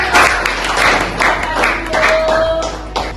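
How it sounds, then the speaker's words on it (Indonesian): A classroom audience claps for a presenter after a group discussion session, sustained lively clapping for over three seconds with faint voices mixed in. "tepuk tangan dulu buat aku"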